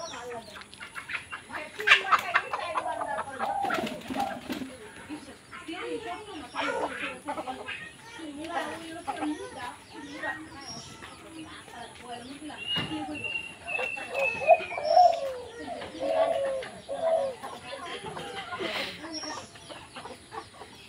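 Young male spotted doves, about four months old, coo in repeated soft calls from inside a house, fairly faint and mixed with someone talking throughout.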